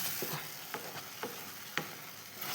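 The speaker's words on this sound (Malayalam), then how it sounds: "എന്നിട്ടെല്ലാം കൂടി ഞാനൊന്ന് ഇളക്കുന്നുണ്ട്" Mango halwa mixture being stirred in a pan over low heat, a soft frying sizzle with a few spaced scraping strokes of the spoon, close and quiet.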